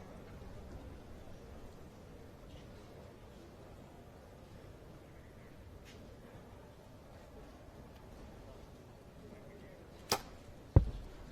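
An arrow is shot during a women's compound archery team gold final outdoors, one sharp thwack near the end followed by a louder impact, after a long stretch of quiet ambient background noise.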